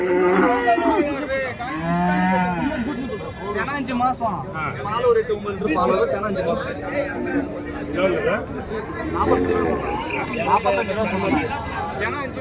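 Cattle low and moo repeatedly at a busy cattle market in Kundarapalli, Krishnagiri district, where milking cows and large cattle are sold, with constant crowd chatter and voices around the animals.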